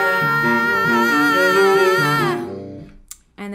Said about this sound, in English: what I'm going to do is move my bow closer to the bridge